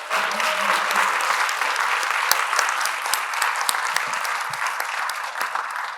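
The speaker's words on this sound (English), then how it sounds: "please put your hands together as we bring him onto stage" An audience applauds as a company CEO walks onto a conference stage, with steady, dense clapping that runs the whole time, a few sharp louder claps, and faint voices underneath.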